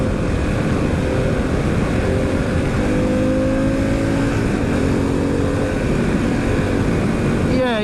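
A Harley-Davidson Pan America motorcycle rides at speed, its engine a steady loud drone under heavy wind rush, with shifting engine tones and a voice talking over it.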